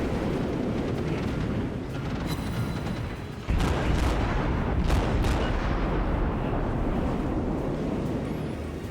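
Guns of a Cleveland cruiser fire during a World of Warships naval battle: loud booming shots punch through a dense, continuous roar of battle noise.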